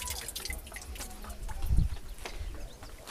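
Water trickling and dripping at a village mountain spring used for washing sheep's wool, a close, uneven splashing flow with a brief louder gush midway.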